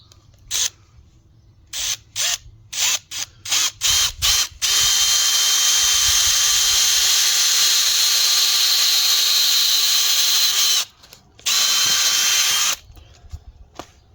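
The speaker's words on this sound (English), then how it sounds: "So I'm going to just drill a hole there." A power drill whirs in several short bursts, then runs steadily for a long stretch before a brief pause and a final run, loud and close, boring a hole in a wooden branch.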